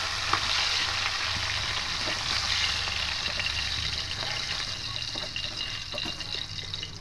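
Pomfret fish fry in hot oil with a steady, dense sizzle that holds at an even level throughout, with faint crackles and pops close by.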